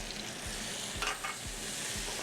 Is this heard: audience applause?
no